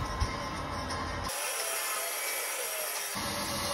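A scratched aluminium alloy wheel is hand-sanded with 240-grit sandpaper, giving a close, steady abrasive rubbing that lasts just under two seconds between quieter handling noises.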